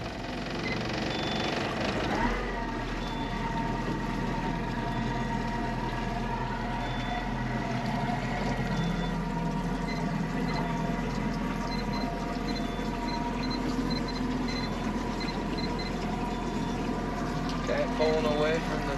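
A Yamaha 90 outboard on a 2015 Smokercraft Phantom 182 hums steadily close by with a low droning rumble as the boat backs off a dock, while a person talks over it.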